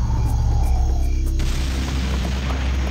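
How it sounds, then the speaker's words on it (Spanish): Cannonballs booming in the video game Serious Sam HD, a loud low rumbling blast that swells into a sustained roar, with a thinner game tone fading beneath it. "Son las balas de cañón que están dando vueltas por ahí."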